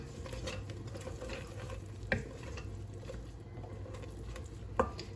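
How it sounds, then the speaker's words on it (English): Brown stew chicken with medium cheddar cheese being stirred in a pot, a close, steady low bubbling simmer with a couple of sharp spoon taps against the pot, no voices. "And then we're going to just stir."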